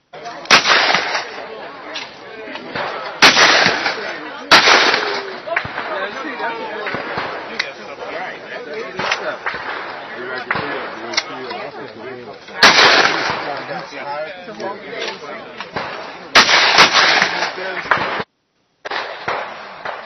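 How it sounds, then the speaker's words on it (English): Rifles fire at a 100 meter shooting range during an open house, sharp loud cracks at irregular intervals, some in quick pairs, over steady background chatter and a nearby voice talking. "We're here at the 100 meter at the rifle shoot today."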